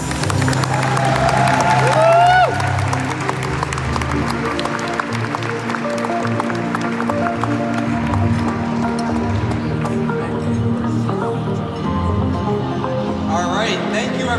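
An audience applauds and cheers after a speaker introduces the CEO of the Renewed Democracy Initiative, a dense, steady wash of clapping and crowd noise holding loud throughout with a few whoops early on.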